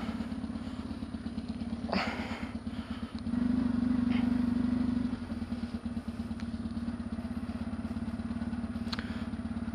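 A motorcycle on its very first dirt trail with a new off-road tyre, the engine droning steadily and close throughout, briefly rising louder for a couple of seconds midway, with wind and rattling in the background.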